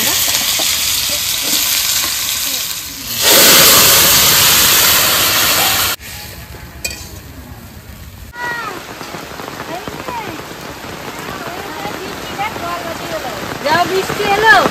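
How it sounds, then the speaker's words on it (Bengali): Heavy rain pours down in a steady, loud hiss for a few seconds, then eases into a softer patter while voices talk nearby. "বৃষ্টি এলো খেতে বসার সময়"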